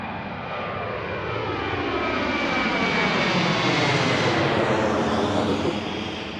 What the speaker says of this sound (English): Are you getting those aircraft sounds?